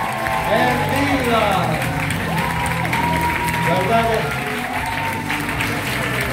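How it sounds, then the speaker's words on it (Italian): Sustained audience applause with some cheering fills the room at an Italian arts therapy congress while a presenter talks over the clapping. "quanti applausi poi si prendono per essere qui"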